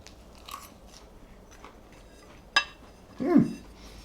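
A single crisp crunch of a bite into tempura-battered whiting fish from store-bought fish and chips, followed by a louder crackling bite, both close up and alone.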